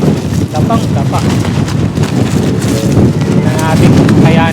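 Strong gusty wind on a mountain campsite buffets the microphone in a loud continuous roar, with a voice faintly heard beneath the rush.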